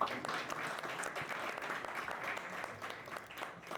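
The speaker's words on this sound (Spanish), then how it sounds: "Por favor, un aplauso para Verónica Regalado." Quiet applause rises from a small audience at a tax optimization event in honor of a presenter, a soft continuous patter of clapping heard from some distance that eases off toward the end.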